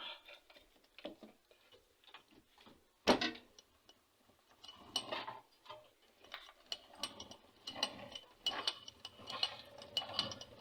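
Lathe (TV16) feed running while winding a compression spring for a log splitter, giving irregular ticking and ratcheting mechanical clicks with a sharp clack near the start, fairly faint and close, without talk.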